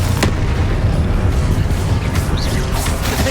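A fiery Confringo spell blast booms in Hogwarts Legacy, a loud rumbling explosion with a sharp crack at the start, followed by a sustained crackling roar.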